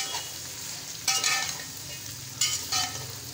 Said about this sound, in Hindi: अब ये हमारे प्याज हो रहे हैं, इनको भी हमने लाइट ब्राउन करना है